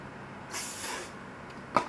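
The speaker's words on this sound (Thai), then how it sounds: "สเปรย์ตัวนี้นะคะแสดงว่ามันไม่ทำให้ผมแข็งอะ" Hair spray hissing once in a single half-second burst, fairly faint and close, followed by a short click and quiet.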